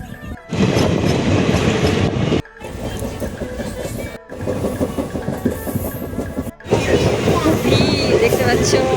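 A passenger train rolls into Mahananda station with a loud rumble and rattling carriages, close by and continuous, interrupted by several abrupt cuts.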